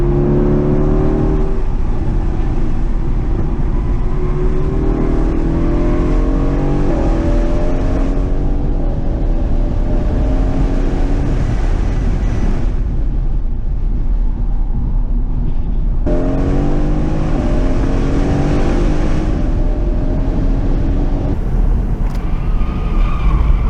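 Mercedes-AMG GT R engine on track at Chuckwalla Valley Raceway, loud and sustained from inside the car, with repeated rising pulls through the gears, lifts, a sudden drop around mid-way and a renewed surge.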